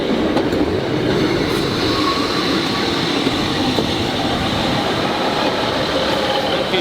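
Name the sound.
train departing station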